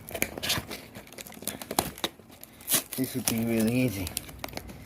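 Loose packing tape is peeled off a cardboard shipping box, making close crinkling and tearing rustles while a person talks over part of it.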